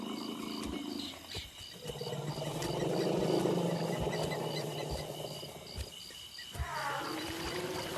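A female elephant's mating call in the wild, a long rumbling, trumpeting vocalization that swells over several seconds amid a busy natural background of insects and frogs, fairly distant and moderately loud.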